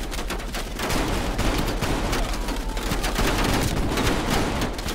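Dense, continuous gunfire from the Call of Duty: Cold War campaign, with overlapping automatic bursts and shots running loud and unbroken through the whole stretch.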